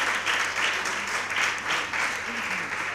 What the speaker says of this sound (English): A round of applause to our contestants